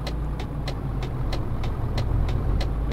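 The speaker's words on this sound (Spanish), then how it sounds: "Vamos a dejar pasar este camión primero." Truck passing on a road in the Euro Truck Simulator 2 video game, a steady low engine and road rumble that holds near and loud throughout, with faint regular ticking above it.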